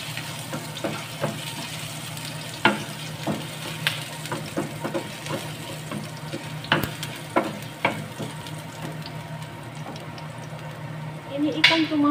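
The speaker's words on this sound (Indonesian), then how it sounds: "Ditumis terlebih dahulu." Sliced ginger stir-fried in a pan with squid, a steady close sizzle punctuated by spatula scrapes and clinks against the pan, with a faint underlying hum throughout.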